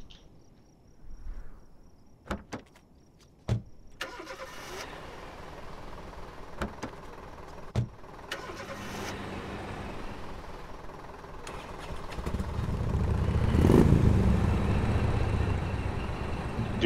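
A half-track truck engine in the war game Foxhole starts up amid sharp clicks and insect-like chirping, then rumbles louder and heavier toward the end, close by with no talking.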